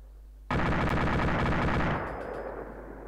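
Sustained automatic gunfire sweeps the second floor of a building in a video game, a dense unbroken burst lasting about a second and a half before dropping to a quieter trailing rattle, with no talk over it.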